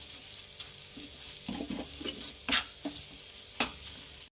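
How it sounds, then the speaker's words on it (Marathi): Besan is stirred and roasted with oil and cooked onion in a pan for zunka, giving a soft continuous sizzle with a few scraping stirs of a spoon, close up and quiet, without speech. "आता तेल वगैरे कांदा वगैरे पकल्यानंतरच आता याला खूप वेळा भाजा भाजायचा बेसनाला"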